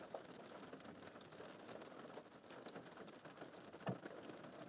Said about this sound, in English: That rain's loud, right, guys?